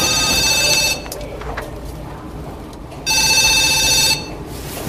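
A telephone rings twice with a loud electronic trill, each ring about a second long, separated by a quiet pause holding faint background noise. The calls are debt collection calls.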